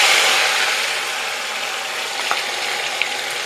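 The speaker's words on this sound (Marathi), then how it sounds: "तेल गरम झालेले, त्यामध्ये आता आपण हे जे वाटण तयार करून घेतले ते घालायचे" Ground masala paste hits hot oil in a kadai and sizzles loudly at first, then settles into a steady hiss of frying with faint crackles, alone and close.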